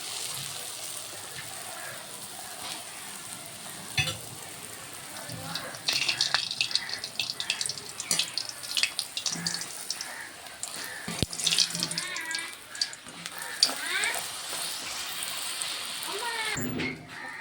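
Puris made from flour dough with nigella seeds and salt are dropped into hot oil in a wok, giving a bubbling, crackling sizzle that swells and fades in bursts, with a voice heard at moments.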